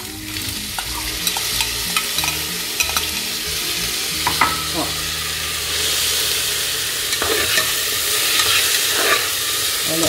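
Beans seasoned with salt, black pepper, garlic and dry seasoning are added to golden-browned onion and stirred in a pot, giving loud sizzling frying with repeated spoon scrapes and clanks, close and without talk.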